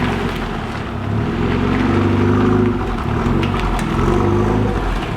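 A Renault Megane 225 engine runs close by, with a deep, rumbling idle that rises into a revving swell and then settles back to a throbbing hum.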